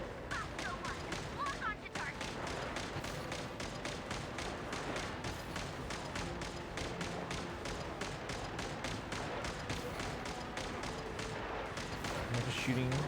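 Rapid, steady shooting in Genshin Impact, dense repeated sharp hits running continuously for the whole stretch over game music, with a voice briefly heard.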